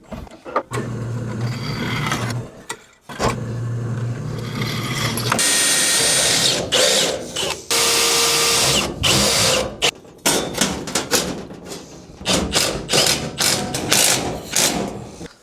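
A power drill drives screws into the welded body of an NSU Prinz, whining in repeated bursts with ratcheting clicks and pauses between them, loud and close, with no talk.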